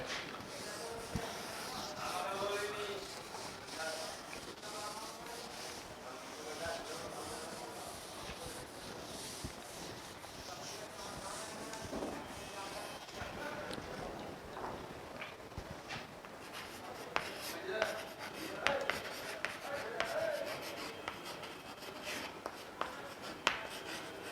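A blackboard in a high school geography classroom is wiped clean, a long stretch of rough rubbing and scraping strokes at close range with faint room noise.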